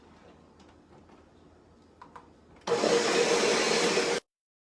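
A blender making a smoothie starts suddenly after quiet clicks and runs with a loud, steady whir for about a second and a half before cutting off to silence.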